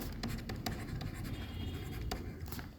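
Pen writing on paper during an accounting lesson, close scratchy strokes in quick irregular bursts with brief pauses, and no talk over it.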